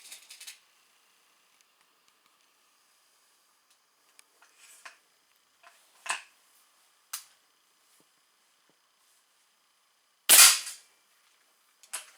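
A Weihrauch HW 80 .22 (5.5 mm) air rifle fires several sharp, close cracks spaced seconds apart, with near silence between them and one louder shot near the end.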